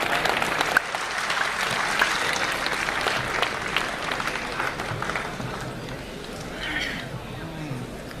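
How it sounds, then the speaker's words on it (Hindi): An audience at a mushaira claps to welcome a poet: a dense, steady burst of applause close by that gradually thins toward the end, with a voice speaking over it. "मैं चाहता हूं जोरदार तालियों के साथ आप उनका स्वागत करें।"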